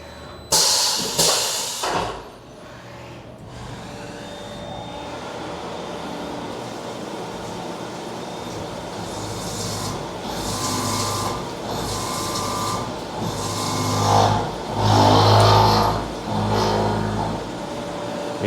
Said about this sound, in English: We're gonna pick up that carbide and send it through there, and you get to hear how grumpy it is.